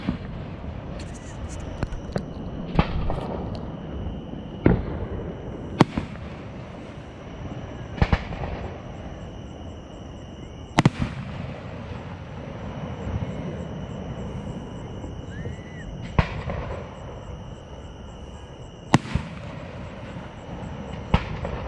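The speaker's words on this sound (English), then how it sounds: "Well, here you go with the fireworks." Fireworks going off in the distance: sharp, isolated bangs at irregular intervals a few seconds apart, each brief and set over a steady low background rumble.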